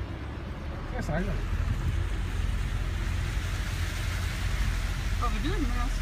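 A boat motors along with a constant low engine drone and rushing water and wind, while voices speak briefly over it.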